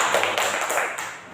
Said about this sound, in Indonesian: Ada yang tepuk tangan untuk mereka berdua